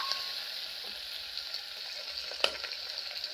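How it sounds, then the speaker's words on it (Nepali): Onion fries in a pan while being stirred, giving a steady close hiss of sizzling oil with occasional scraping and clacks of the utensil. "प्याज राखेर चलाउने।"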